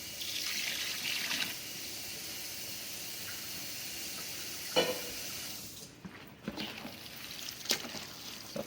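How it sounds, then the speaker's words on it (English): Water from a Yeti cup pours into a bowl of wild hog sausage mix, a steady splashing rush that eases off, followed by a few wet sloshing and mixing sounds. "we got a Yeti cup full of water we're gonna mix with it"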